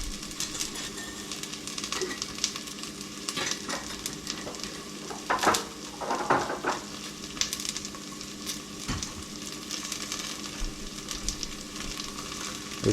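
Onions sizzle steadily in a hot pan for meatballs, a continuous close frying hiss with occasional louder crackles and stirring scrapes.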